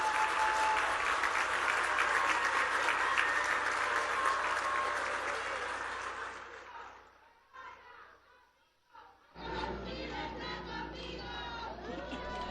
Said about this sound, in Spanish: Fuerte el aplauso para nuestro gobernador.